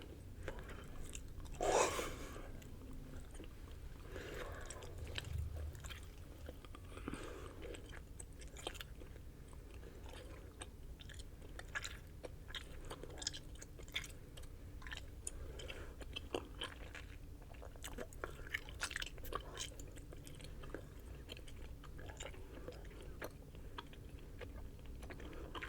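Bubble Yum Cotton Candy bubble gum being chewed close up, soft wet smacking and crunchy bites in an uneven steady rhythm, quiet and intimate, with no talking.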